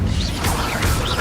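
Repeated fire spell effects from the Hogwarts Legacy video game, dense roaring whooshes with low rumbling bursts arriving in quick succession, loud and close.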